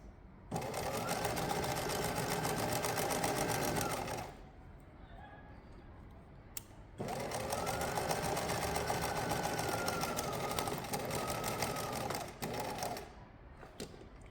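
Sewing machine stitching backpack fabric, a loud, close, rapid mechanical whir in two long bursts with a short quiet pause between them.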